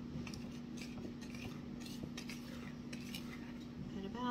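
A whisk clinks and scrapes around a bowl as dry ingredients are slowly combined into batter for fall baking, a faint, steady rapid tapping close by with no talk.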